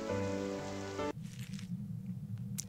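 Rain falling in the video game The Witch's House, a soft steady patter of drops that comes in after a sustained tonal sound cuts off, faint and continuous to the end.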